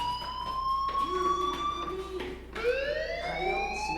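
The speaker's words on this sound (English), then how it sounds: "Hey, do you hear that fire alarm?" A fire alarm in the video game Life is Strange gives a steady, loud electronic wail that holds a constant pitch and then shifts upward partway through, over a low background hum.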